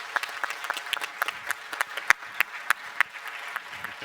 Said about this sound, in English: And applause as well for Professor Reed for moderating the final panel discussion as well.